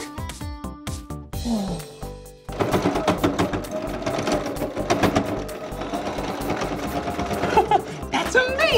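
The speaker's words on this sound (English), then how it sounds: "The needle is moving so fast and it's putting the thread in the clothes." A sewing machine stitches a pinned costume, its needle running in fast, steady bursts through the fabric; a brief tonal passage comes first, then continuous close, loud mechanical chatter.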